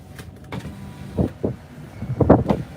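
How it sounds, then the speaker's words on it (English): Steel street signs in Malibu, California, rocking in strong wind give off a series of creaky metallic squeaks, spaced irregularly and growing louder and more frequent toward the end over a low wind rush. "squeaking of the signs, you know, the street signs that rock, the steel."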